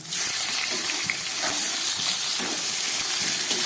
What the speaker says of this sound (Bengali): আলুটা একটু ভেজে নিলাম, এবার দিয়ে দিচ্ছি কয়েকটা শিম।